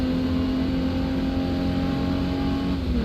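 A car engine in the Drive 21 driving game revs hard and steady as gears shift upward, with a loud, constant droning hum and no voices.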